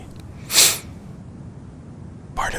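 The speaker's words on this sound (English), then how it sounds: "Pardon my sniffles." A few short nasal sniffs from a person with a cold in a cold room, one sharp and close near the start and another near the end, set against steady soft white-noise hiss with no talking.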